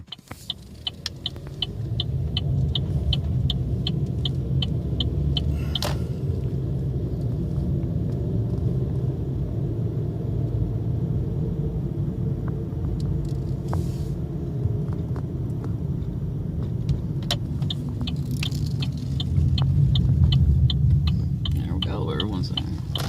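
Steady car road noise with a low engine rumble and tire hum runs throughout, heard from inside the vehicle during the last leg to a rest stop on an MS150 charity bike ride, with faint periodic ticking and soft voices.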